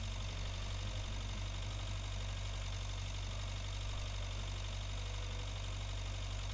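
In the Agricultural Simulator 2013 video game, a tractor engine idles with a constant, even low drone and faint knocking throughout, steady and unchanging, with no talk.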